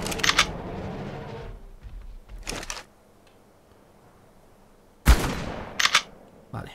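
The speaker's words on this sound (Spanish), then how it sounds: "vamos a pegarles tiros" Shotgun blasts fired at low-level dinosaurs, including a Tarbosaurus, in a video game: about four sharp, loud reports in separate bursts with quiet gaps between them and no talking.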